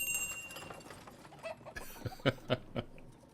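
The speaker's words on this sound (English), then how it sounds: "Oh, the chickens make noise." A few short, bright chicken clucks from the village-building game Ostriv pop out one after another near the end, over a low, noisy background with no talking.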